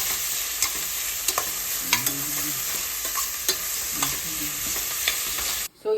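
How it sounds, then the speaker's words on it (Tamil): Chopped onions sizzling in hot oil in a pan while a spoon stirs them for a vegetable prawn pulav, a steady close fry with repeated scraping strokes and no talk. "ஸோ வெங்காயம் நல்லா வதங்கி வந்துருச்சு"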